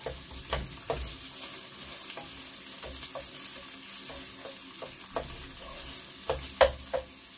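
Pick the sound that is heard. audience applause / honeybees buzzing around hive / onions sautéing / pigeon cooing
onions sautéing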